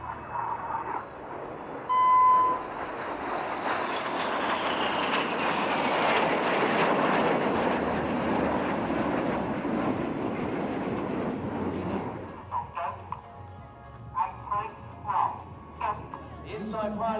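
RAF Red Arrows jets flying the Mirror manoeuvre at Leeuwarden Air Base air show, a broad jet roar swelling and then fading away, with a commentator talking over it and a brief tone near the start.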